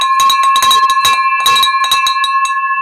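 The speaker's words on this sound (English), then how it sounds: "let's ring this victory bell" A handheld victory bell is rung in an office, clanging rapidly and repeatedly with a bright, sustained ring for nearly three seconds, loud and close.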